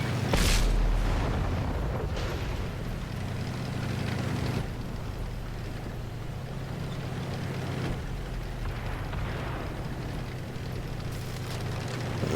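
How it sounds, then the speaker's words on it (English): Artillery fire in the World of Tanks video game, heard as a heavy boom at the start followed by a few duller distant impacts over a low, rumbling engine drone. "We do have artillery on us."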